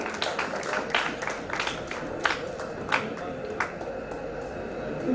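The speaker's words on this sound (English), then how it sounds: "Let's have a big round of applause for all the awardees" Audience applause for awardees at an international management conference, a sustained patter of many hands with a few louder claps standing out, fairly distant and even throughout.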